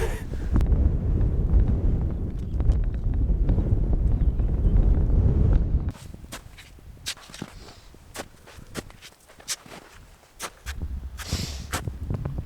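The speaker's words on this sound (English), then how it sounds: "It is super windy" Strong mountain wind in the French Pyrenees roars and buffets the microphone continuously, then drops to gustier bursts with crunching footsteps on snow underneath.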